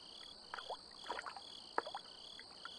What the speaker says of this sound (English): I can hear the crickets behind me